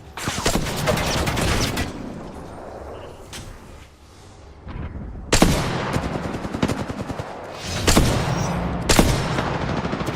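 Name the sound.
gunfire in the video game Apex Legends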